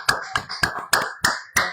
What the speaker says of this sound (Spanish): Le damos un aplauso, somos poquitos